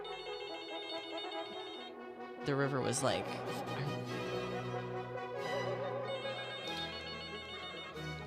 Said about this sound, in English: I think it's a phone call.